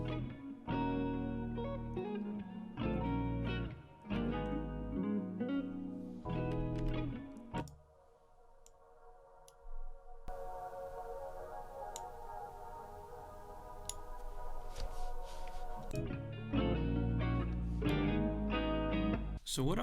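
An ethereal synth pad processed with a low pass filter, chorus and crystallizer swells over a beat, thinning into a hazy, filtered stretch midway before the fuller layered texture returns; faint talk may sit underneath.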